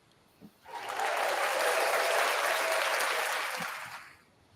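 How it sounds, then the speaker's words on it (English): Studio-style applause effect swells in after a short pause, a dense, even wash of many clapping hands that holds steady for about three seconds and then fades out. "How come you get applause?"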